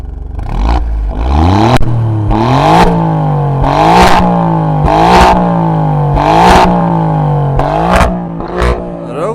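An Alfa Romeo Quadrifoglio's engine revs loudly on a cold start, rising and falling in about eight sharp bursts with crackling pops between them, close up and without talk.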